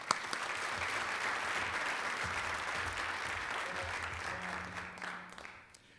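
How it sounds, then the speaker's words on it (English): Community audience applause at a township State of the Township event, a broad sustained wash of many hands from a sizable room, with faint voices and low hum underneath before it tapers off. "I'd love you to join me with another round of applause for this great, great community"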